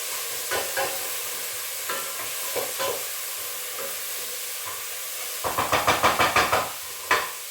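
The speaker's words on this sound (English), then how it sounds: "I'm just going to put my garlic into my pan, and then give it a big stir" Garlic sizzles in a pan for roasted cauliflower soup, a soft frying hiss under occasional spoon scrapes that turn into a quick run of rhythmic stirring strokes near the end, close and without speech.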